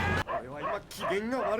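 A dog in the anime Cowboy Bebop, episode 2, whimpers and yips in two close, high, wavering whines separated by a short break.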